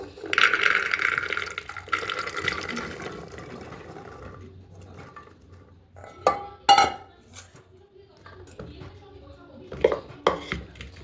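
Washed, soaked chickpeas go into a pressure cooker with a wet rattle and a few clanks and clinks of metal, close by, the pouring strongest at the start and knocks scattered after.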